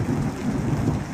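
Rain and thunder weather effects in an indie video game: a dense, loud wash of rainfall with low rumbling thunder underneath, continuous and close with no talk.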